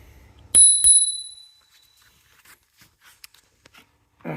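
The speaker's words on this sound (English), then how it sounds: "Get a little bell that I have not used yet." A small handlebar bell on an AovoPro ES80 electric scooter rings twice in quick succession, close and bright, its tone ringing out briefly before fading into quiet handling noises.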